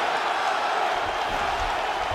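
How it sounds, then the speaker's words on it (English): Arena crowd noise from a UFC 5 mixed martial arts video game bout, a steady roar of cheering that carries on evenly throughout at moderate loudness with no pauses. "crowd just loving it"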